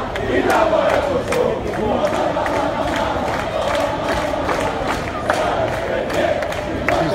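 Fans celebrating Alessandria's promotion to Serie B cheer and chant in a packed town square as an open-top bus moves through, a loud, sustained roar of voices with rhythmic bursts of shouting.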